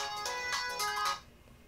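A customer's phone ringtone plays nearby, a bright melodic electronic tune with a few repeating bursts that stops abruptly, leaving quiet room noise.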